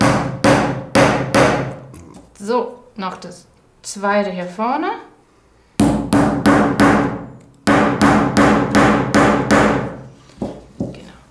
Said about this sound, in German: Wenn du einmal hältst, dann hämmer ich einmal die Räder her.